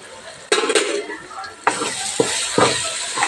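A spoon stirs chili powder into a cooked-down tomato fry in a pan, with a few sharp scraping strokes over a continuous low sizzle.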